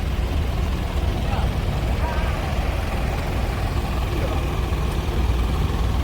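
A tractor engine tows a dump truck up a sticky, muddy slope, a loud, steady rumble that holds without a break for several seconds.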